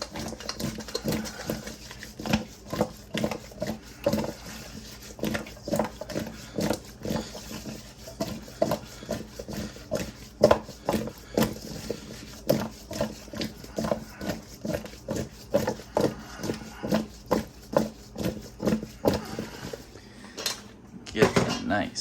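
Steady rhythmic clinking and scraping of a utensil stirring ingredients in a bowl for a Hello Fresh firehouse cheeseburger, close and fairly loud, repeating evenly throughout with no talking.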